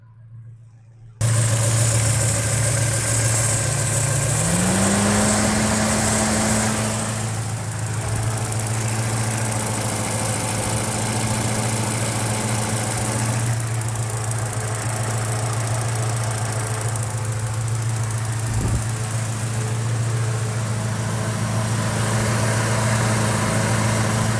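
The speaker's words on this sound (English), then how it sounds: "getting in close to the engine here at idle" A 1986 Porsche 944 Turbo with a 5-speed manual idles close-up, a steady low engine drone with faint ticking and a brief rising whine early on, continuing evenly throughout.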